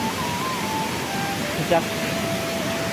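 A loud waterfall at night, a steady broadband roar filling the whole clip, with a faint tonal hum and a brief knock partway through.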